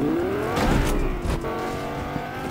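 A car driving in the video game Fortnite, its engine rising steadily as it accelerates, close and continuous with a brief scrape partway through.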